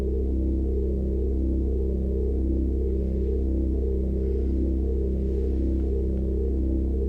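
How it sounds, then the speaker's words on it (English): A sustained, dry synth bass note from a Roland SH-4d drones evenly at low pitch, steady and unchanging, with no reverb, chorus tail or shimmer. "Now that's the bass sound without reverb or chorus."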